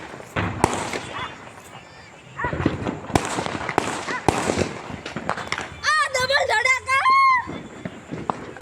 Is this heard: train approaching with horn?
no